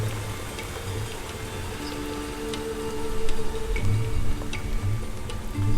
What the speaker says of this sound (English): This rain is teasing us from the beginning of the practice, and I am enjoying so much.